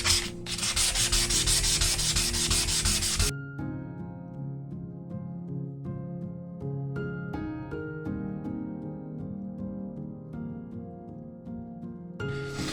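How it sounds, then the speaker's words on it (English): Hand sanding an epoxy resin surface back and forth: a loud, steady abrasive scrub for about three seconds, then quieter, irregular rubbing strokes with light scratches and taps, and another burst of scrubbing at the end. "now we're going to sand that way across the top of this face"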